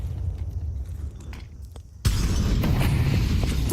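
A Counter-Strike grenade goes off mid-round in a professional match, a sudden loud burst that cuts in halfway and leaves a dense, rumbling wash of noise sustained to the end.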